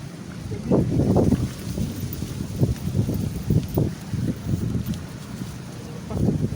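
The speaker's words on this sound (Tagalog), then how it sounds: "Sobra kasi lakas ang hangin." Strong wind roars and buffets the microphone in gusty low rumbles, steady throughout with surges near the start and end.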